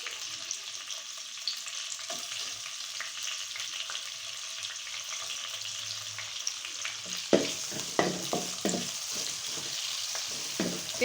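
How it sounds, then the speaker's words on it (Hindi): Onions frying in oil in a pan until light brown, a steady close sizzle with occasional stirring scrapes and clinks growing busier toward the end; no one speaks. "डालेंगे इसमें प्याज को करेंगे हल्का ब्राउन।"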